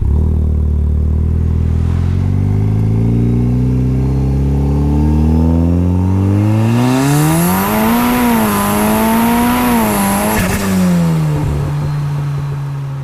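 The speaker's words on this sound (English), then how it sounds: "It has really nice exhaust note, really nice turbo spool, blow-off valve flutter, intake sounds." A Mitsubishi Lancer Evo X engine revs up from idle, pitch rising and wavering as the turbo spools, then the blow-off valve releases sharply before the motor settles back, loud and close with no talk.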